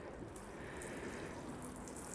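Water pours steadily over a K&F Concept camera bag in a continuous rushing splash, close and fairly loud for the full length with no gaps.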